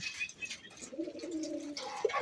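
A pigeon coos in a low, soft murmuring call that swells midway, set against a faint background of chirping birds.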